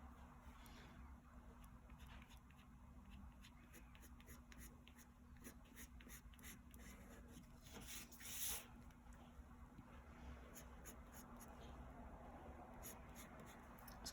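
A pencil draws a C shape on paper while sketching a barn owl, a faint continuous scratchy rub of graphite that runs steadily under low background hiss with no talking.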